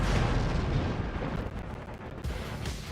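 Artillery batteries firing in Total War: Empire, a continuous rumbling roar of distant cannon booms blending into a dense, steady wash of battle noise.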